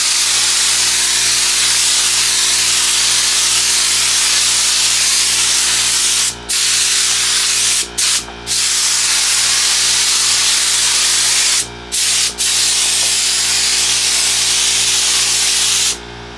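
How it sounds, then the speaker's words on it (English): A close, continuous hiss of spraying onto vinyl for a custom bench seat, with a steady mechanical hum underneath, broken by a few brief pauses. "And I spray some on vinyl."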